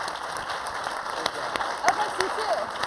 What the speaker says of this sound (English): ask for a round of applause for our panelists